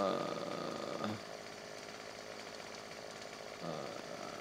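A chainsaw in Farming Simulator 17 drones steadily in close, a continuous buzzing whine with a short rev near the start and another near the end, while a person talks faintly underneath.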